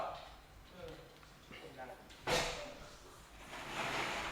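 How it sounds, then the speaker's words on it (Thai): A door is pushed shut indoors with one sharp, fairly loud thud partway through, after quieter shuffling and faint handling noises, followed by a low rustling tail. "ปิดประตูให้พ่อก่อน"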